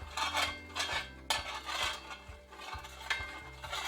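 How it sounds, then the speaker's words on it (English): Oil being spread around a metal baking tray for an Oreo cake makes light, close scraping and clinking in short repeated strokes, with no voices. "Now I have to spread the oil around."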